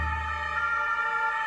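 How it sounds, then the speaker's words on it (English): Steady, loud siren wail from the video game Cross The Moon, held as a continuous layered emergency-vehicle tone with strong harmonics and no voices over it. "And not just any sirens."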